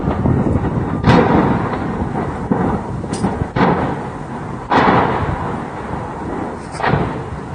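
Missile strike explosions in the Kherson area of Ukraine: several loud, heavy booms at intervals, each a broad rumbling blast that fades, over constant background noise.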